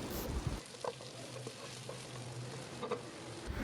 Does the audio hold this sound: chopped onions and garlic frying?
yes